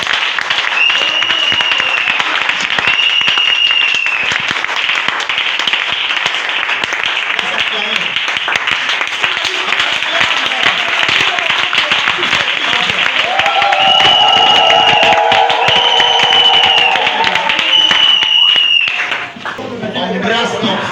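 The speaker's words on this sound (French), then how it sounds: "On acclame très fort." A church congregation applauding loudly, a dense continuous wash of clapping alongside shouting and voices, with music and singing joining partway through before it briefly drops off near the end.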